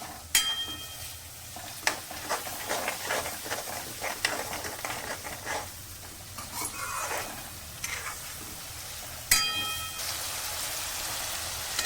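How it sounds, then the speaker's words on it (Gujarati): Tomato pieces with salt stirred in a hot pan, a close continuous sizzle and frying crackle with scraping stir strokes and a few sharper knocks against the pan. "હવે એને સરસ રીતે મિક્સ કરી લઈ."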